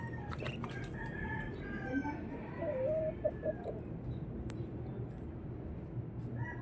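Several chickens cluck and a rooster crows amid constant farmyard noise, the calls moderately close and overlapping.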